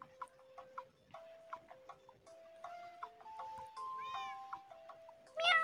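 Cartoonish cat meows from the mobile game Merge Cats, a string of short tonal mews and chirps over soft ticking game sounds, ending in a louder, brighter meow.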